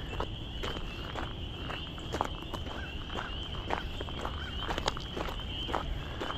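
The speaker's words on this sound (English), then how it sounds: "Oh, you can hear the tree frogs, by the way." A steady high-pitched chorus of tree frogs trills continuously in the background on a warm morning outdoors, with faint scattered tapping and rustling nearby.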